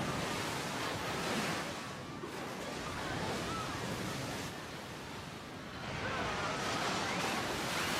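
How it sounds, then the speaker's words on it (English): Rushing tsunami water and breaking waves in a simulation roar as a loud, continuous broadband wash, swelling and easing slightly in surges, with no voices. "Okay, now you're in rushing water, you're bobbing up and down"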